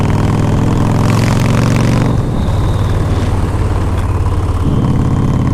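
A 2011 Victory High Ball Bobber motorcycle with a six-speed transmission revs loud and close, its deep engine drone rising and then dropping in pitch as it shifts, continuous throughout.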